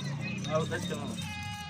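Goats bleating while being loaded as cargo, with a nanny goat and two kids, the calls rising over steady talk and a low crowd murmur nearby.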